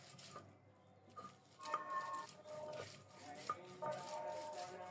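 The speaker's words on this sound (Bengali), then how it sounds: "বড় সাইজের একটা রসুন খোসা ছাড়িয়ে ধুয়ে নিয়েছি, এখন ছেঁচে বেটে নিচ্ছি।" A large peeled garlic bulb is crushed and ground by hand in a home kitchen. Soft, irregular knocks and scraping taps come close and quiet, with a few sharper clacks.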